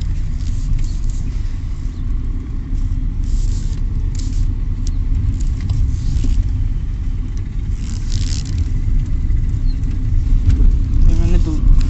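A car's engine hums and rumbles steadily from inside the cabin while driving in second gear, rising slightly toward the end as it gathers speed, with no other sounds standing out.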